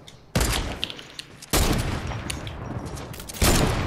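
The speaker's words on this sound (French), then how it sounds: "Moi j'ai un sniper, tu peux tirer que une balle." Rifle fire from a Fortnite match: three loud, sharp gunshot bursts land near the start, middle and end, each with a long, noisy reverberant tail that fills the gaps between them.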